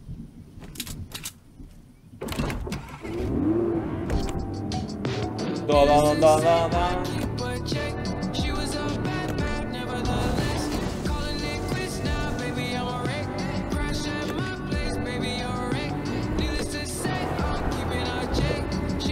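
A Fortnite car engine drones and revs amid clattering game effects, while a voice hums a sing-song tune over it.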